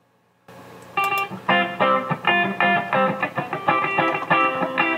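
Multitrack song recording played back from a Korg D3200 recorder, a full band mix with distorted electric guitar chords in a steady rhythmic pattern, loud and continuous after a brief quiet start.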